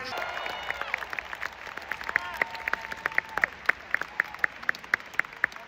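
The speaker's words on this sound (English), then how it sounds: "Can we first hear a round of applause for our" Scattered clapping rises at a New York political rally, with crisp individual claps growing more regular over indistinct voices and a whistle-like tone early on.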